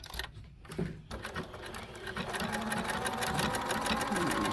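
Sewing machine running a thick triple straight stitch, a steady fast mechanical whir with rapid needle clatter that builds after a brief pause and continues without break, close up.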